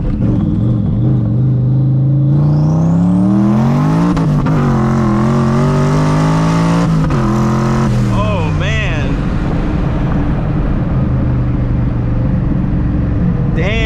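A 900-horsepower turbocharged SVT Cobra pulls hard from a roll, its engine note climbing through rising revs with a shift and a second climb, loud and close in the cabin, with voices talking over it.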